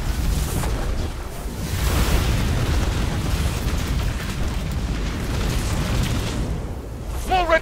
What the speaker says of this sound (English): Missiles! Stay inside my shield!